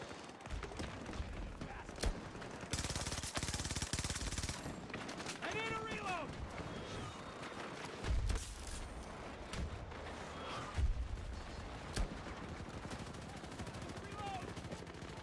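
An enemy soldier firing in the video game Battlefield 2042 from behind sandbags, with repeated rapid bursts and scattered louder single shots against continuous battle noise.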